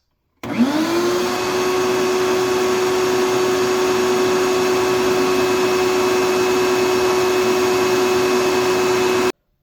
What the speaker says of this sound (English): Now let's also see how loud the shop vac is.